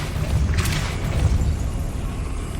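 A Depulso force spell cast in Hogwarts Legacy goes off as a short, deep boom with a bright burst at its onset, followed by a low rumbling tail.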